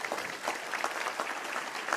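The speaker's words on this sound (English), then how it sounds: "We want to give you a round of applause" A luncheon crowd gives elected officials a steady round of applause, with brisk, even clapping from a room of people. The short burst stays at moderate volume and has no talking.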